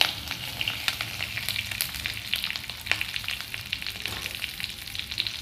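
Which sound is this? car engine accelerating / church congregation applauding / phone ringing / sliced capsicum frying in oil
sliced capsicum frying in oil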